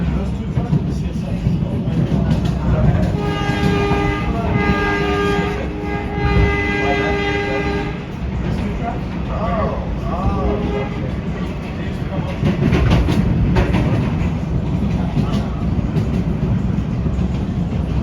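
A PATH commuter train to World Trade Center rumbles along the rails near Journal Square with a low steady roar and a sustained horn-like tone partway through; faint talk sits under the noise.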